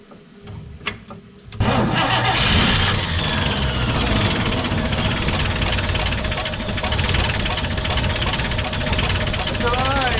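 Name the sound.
1951 Chevy truck engine starting with new carburetor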